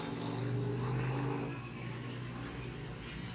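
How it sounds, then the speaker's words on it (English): Steady road traffic rumbles by, a continuous low drone of passing vehicles with a brief louder swell early on, moderately close and without voices. "Traffic."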